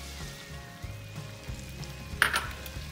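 Lemon juice hits a pan of garlic and butter for salmon, giving a faint low bubbling and one sharp, brief sizzle near the end.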